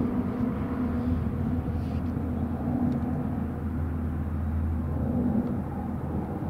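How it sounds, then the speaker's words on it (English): Military aircraft at Davis-Monthan Air Force Base, Arizona, a steady low engine rumble with a droning hum holding at constant loudness throughout, no voices. "aircraft right there"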